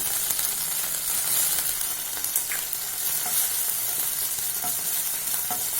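Long-cut ginger sautéing in a pan over medium flame, a dense, steady sizzle close up with faint stirring taps and no speech.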